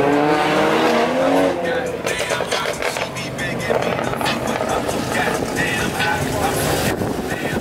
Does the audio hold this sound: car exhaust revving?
yes